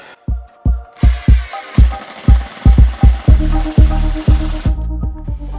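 A power drill drives drywall screws at close range, with a string of short, sharp bursts followed by a longer steady whir as a screw is sunk into a drywall panel.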